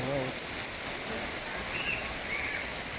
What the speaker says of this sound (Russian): Oh, raining very much.